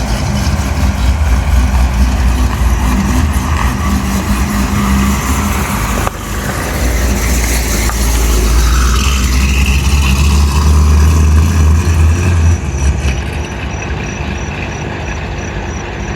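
Cadillac CT5-V Blackwing converted to flex fuel, out on a drive: a steady, loud, low engine drone with road rumble that rises and settles across the run, with no talk.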